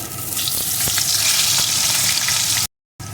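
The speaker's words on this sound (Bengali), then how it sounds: "এখন এই তেলের ভিতরে প্রথমে আমি আলুর টুকরোগুলোকে দিয়ে দেব" Potato pieces hiss and crackle in hot oil just used for frying fish while a curry is being cooked. The sizzle is close and continuous, then cuts out briefly near the end.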